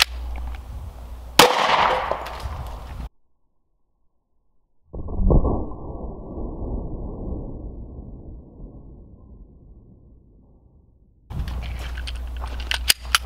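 A Glock 30 Gen 4 pistol fires .45 Hornady hollow points at cast iron skillets. A sharp, loud shot rings out, then another impact with a decaying metallic ring after a gap of silence.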